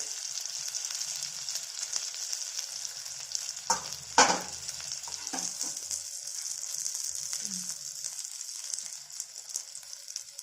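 Roasted ground onion frying for a brinjal bhaji makes a soft, even sizzle, with a few distinct stirring scrapes and one sharper clank of the spoon close by.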